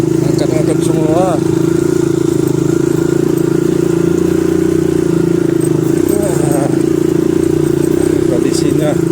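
An automatic scooter rides along a badly damaged, broken concrete road, its engine droning steadily with rattles and clatter over the rough surface, while a person talks over it throughout.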